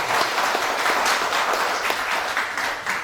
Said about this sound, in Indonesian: Tepuk tangan untuk narasumber kita.